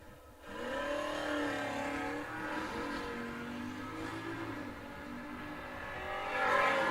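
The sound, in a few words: Ford Mustang Fox body drag race cars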